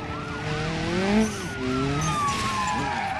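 A damaged, bent car in BeamNG.drive swings its rear out and slams into another vehicle, the brief skid and thump nearly buried under loud, wailing police sirens that carry throughout.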